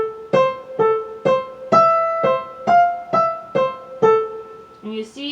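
Opening figure of Schumann's The Wild Horseman on piano, a bouncy run of about ten short, detached notes in steady rhythm, close and clear, with a final chord at the end.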